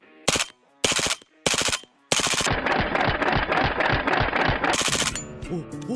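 A gun fires three short, sharp bursts separated by brief pauses, then one long stretch of rapid automatic fire like a machine gun. The shots are loud and close and trail off into a ringing tail.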